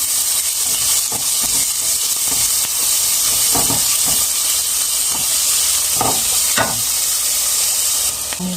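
Onion and garlic sizzle in oil in a pan as the base for a chicken vermicelli white soup, a steady close hiss with scattered pops and clinks throughout.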